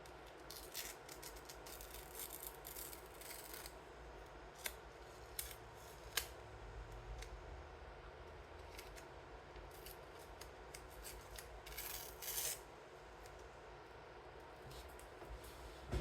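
Paper is torn by hand for a mini fold-out journal, giving soft, close ripping and rubbing sounds with a few sharper bursts spread over a quiet, steady room background.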